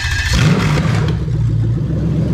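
A Toyota UZ V8 with individual throttle bodies catches and settles into a loud, steady, rough running note close by, with no talk.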